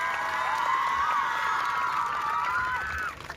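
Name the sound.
crowd applauding and cheering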